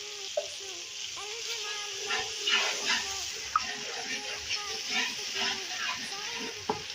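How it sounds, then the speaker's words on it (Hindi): Garlic paste sizzles and fries with onions in a pan for a desi chicken and pumpkin curry, giving a steady close hiss with occasional soft stirring clicks. "हाफ टेबल स्पून इसमें पेस्ट डाल रही हूँ लहसुन का।"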